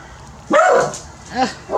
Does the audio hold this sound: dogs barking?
yes